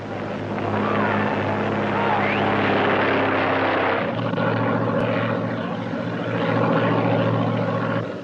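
An airplane engine drones steadily in flight, loud and continuous, with a slight shift in pitch midway and someone narrating over it.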